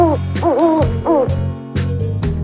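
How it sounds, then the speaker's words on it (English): An owl hoots in a few clear, wavering calls rising and falling in pitch, close and loud over a low steady background hum, with short gaps between the hoots. "What a beautiful owl."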